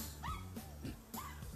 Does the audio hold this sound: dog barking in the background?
yes